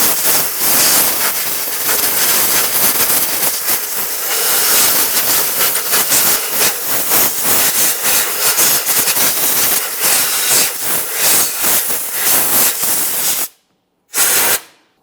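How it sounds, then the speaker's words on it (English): Compressed air blasts through the engine bay of a 2008-2017 Mitsubishi Lancer around the coolant hoses, a loud, close, continuous rushing hiss that cuts out briefly near the end and then resumes in a short burst. "I'm going to clean this using compressed air, paying close attention around all of my coolant hoses."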